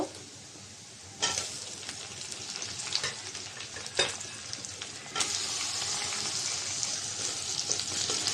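Steady hissing sizzle of shrimp and onion frying for a dhenki leaf-greens dish, with a louder burst of crackle after a quiet start and occasional stirring scrapes; no voices.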